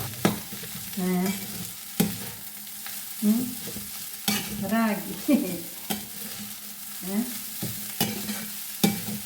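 Fried seasonings in coconut oil are stirred in a pan, with repeated scraping strokes of a spoon against metal and occasional squeaks over a soft background sizzle. The sound is close and comes in uneven bursts, with no voices.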